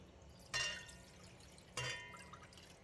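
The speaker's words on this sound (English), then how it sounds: "Add all the stock to a pan or stock pot." Stock for a mustard greens tofu soup poured into a pan or stock pot, two short faint splashing pours with a quiet gap between them.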